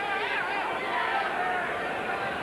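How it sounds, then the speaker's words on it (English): A capacity crowd of about 4,000 basketball fans at Titan Gym during a UNLV vs Cal State Fullerton game, heard as a continuous dense babble and hubbub of voices, steady and fairly loud throughout. "Capacity crowd here at Titan Gym"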